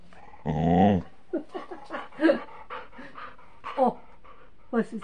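A dog of about 8 to 27 kilos sits on a lap, panting, whimpering and giving short yips close up, with a long whine near the start and intermittent soft vocal bursts after.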